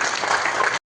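An audience claps loudly at a film audio and trailer launch event, a dense burst of applause filling a hall for under a second before cutting off abruptly.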